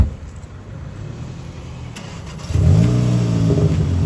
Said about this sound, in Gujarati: ભાઈ જો નવું સ્ટાઇલનું બાઇક